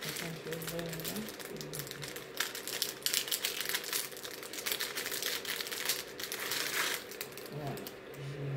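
A package holding a necklace is opened with crinkling, rustling wrapping and small clicks, under a voice speaking at the start.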